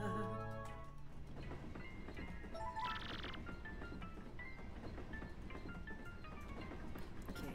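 Train running in Paper Mario: The Thousand-Year Door, a steady clickety-clack rhythm carrying on throughout alongside game music tones and chimes, fairly loud and continuous with no talk.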